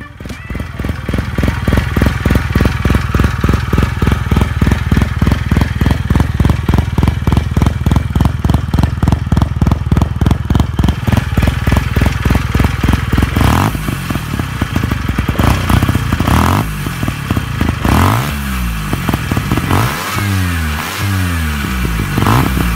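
A Van Veen W2000 rotary-engine motorcycle runs close by, first in a steady pulsing idle, then revving up and down in several rising and falling bursts.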